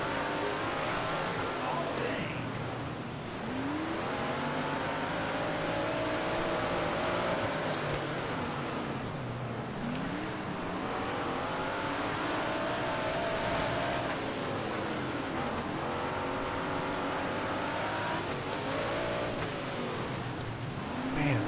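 Sprint cars racing in World of Outlaws 24, a dense pack of engines droning and revving continuously with rising and falling pitch as they bunch through tight corners, with some talk over the engine noise.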